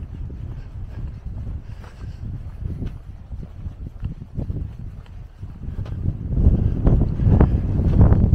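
Gusty wind buffeting a microphone outdoors on the Camino de Compostela pilgrimage route, a steady low rumble that swells louder toward the end, with faint scattered knocks and no speech.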